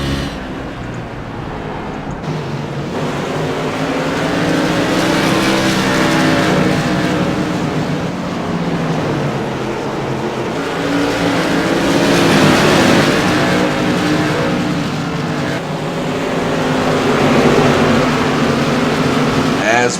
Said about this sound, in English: Definitely hear the difference in engine between the 2 cars as Peterson's making his way up towards Warr